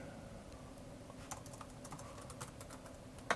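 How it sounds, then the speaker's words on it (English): Typing on a Microsoft Sculpt Ergonomic Keyboard: soft, irregular keystroke clicks, faint and close, tapping in quick uneven bursts with a louder keypress at the end. "and practice typing."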